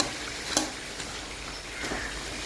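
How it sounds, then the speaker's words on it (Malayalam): Chicken frying in a pan while being stirred and turned: a steady, fairly quiet sizzle with a few sharp scraping clicks from stirring, and no voices. "തിരിച്ചും മറിച്ചൊക്കെ ഇട്ട് ഇളക്കി."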